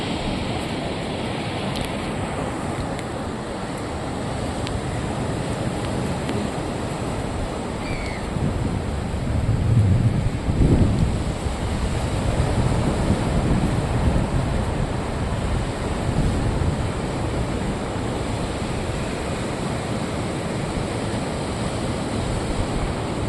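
Black Sea waves break and wash along the shore near Luzanivka in Odesa on a winter day, a continuous surf roar mixed with wind buffeting the microphone, swelling louder midway through.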